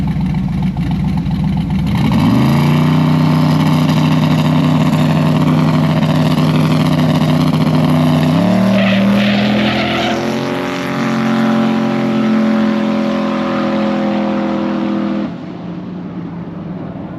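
A drag race car with a trans brake roars off the line after a burnout, its loud engine climbing through rising harmonics, shifting near eight seconds, then pulling hard until it lifts and fades near the end.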